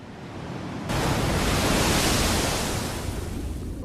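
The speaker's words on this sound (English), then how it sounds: "It sounds more like I fell down a waterfall." Rushing waterfall in the Elden Ring video game, a dense, loud, steady roar of falling water that swells in after a short quieter opening and holds on its own with no talk.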